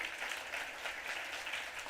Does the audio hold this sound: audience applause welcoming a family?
yes